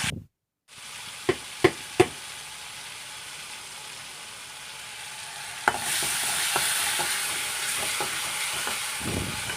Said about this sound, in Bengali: তেল গরম হয়ে গেলে দিয়ে দেব মশলাগুলো এবার ভালো করে নেড়ে চেড়ে কষিয়ে নেব